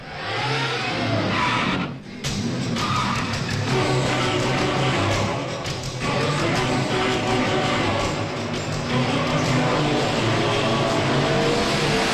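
A car in a dubbed South Indian action film revs and pulls away hard, engine roaring loudly and steadily with rising and falling acceleration, one brief dip before the sound carries on at full strength.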